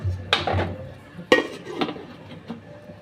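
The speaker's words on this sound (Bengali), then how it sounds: "এবার আমি ঢাকা দিয়ে দেব।" Metal clatter of a lid being set onto a cooking pot in a home kitchen while fish curry simmers, a few sharp clinks and knocks spaced over a few seconds, close and fairly loud.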